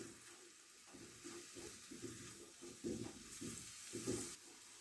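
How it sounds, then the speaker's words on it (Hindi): Garlic paste stirred into onions frying in oil in a pan, a steady sizzle under rhythmic scraping strokes of a spoon, close and fairly quiet, with no talk. "इसके बाद हम इसमें डालेंगे 3 अदद लहसुन के जवे लेके मैंने उनका पेस्ट बना लिया था और इसको भी हम मिक्स कर लेंगे।"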